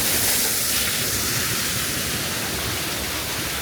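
Small waterfalls splash along a shaded trail beneath the Tree of Life at Animal Kingdom, a steady, close hiss of falling water with no voices.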